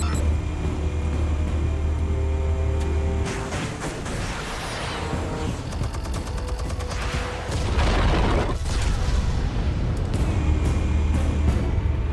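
Armed explosives go off in a Batman game, loud rumbling blasts and crackling debris that swell, dip briefly, then surge again across the scene.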